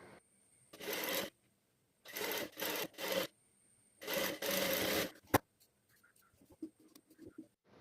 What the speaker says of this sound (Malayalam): നെക്ക് കട്ട് ചെയ്തെടുത്ത ലൈനിങ് പീസും മെയിൻ പീസും ഒരേപോലെ നെക്ക് കറക്റ്റ് പിടിച്ച് വെച്ചിട്ട് തന്നെ സ്റ്റിച്ച് ചെയ്തെടുക്കണം